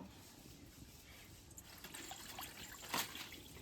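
Water is poured into a pot for homemade 7up, a faint, steady trickle that swells into a brief louder splash near the end.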